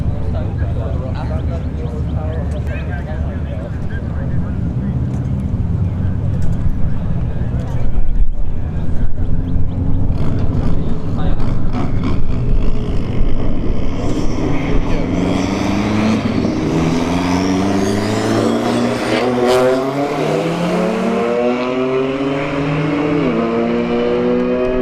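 A BMW M4 and a Dodge Neon SRT-4 drag racing at Bradenton Motorsports Park, engines revving hard and climbing in pitch as they launch and pull away, with a commentator talking throughout.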